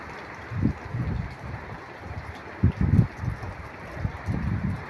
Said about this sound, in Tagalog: Napakalulam na maulan, mahangin pa.